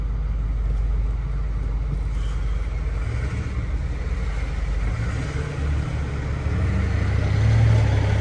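Steady low rumble from a 2008 Ford F450 King Ranch dually running its 6.4 liter diesel, a continuous droning engine note heard up close with no voices over it.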